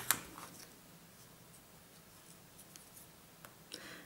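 Light pencil strokes on card, a few soft scratchy marks with brief pauses, close and quiet.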